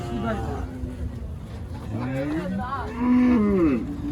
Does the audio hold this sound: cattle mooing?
yes